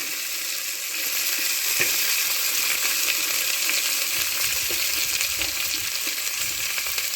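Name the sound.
onions sautéing in a pan for quail gravy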